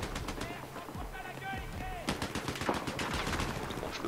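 Rapid bursts of heavy machine gun fire crackle in the shooter game Battlefield 4, dense and loud through the whole stretch, with scattered other shots mixed in.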